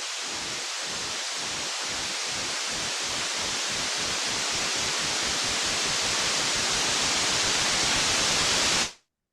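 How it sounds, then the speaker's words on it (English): White noise in Ableton Live hisses steadily while a rhythmic automated filter sweep pulses, its beats speeding up continuously until the hiss cuts off abruptly at the end. "using white noise is the best way to understand automations"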